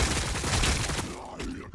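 Skull cannon barrage in the Warhammer 40000 Battlesector strategy game, a dense rumbling burst of overlapping explosive blasts and crackling impacts lasting just under two seconds, loud and close.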